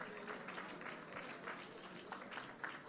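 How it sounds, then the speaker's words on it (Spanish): Faint, distant applause from an audience as a guest enters a room before a panel discussion, a soft sustained patter of clapping at low level. "Vamos a darle un aplauso, por favor, a Ricardo Anaya, que en este momento está entrando a la sala."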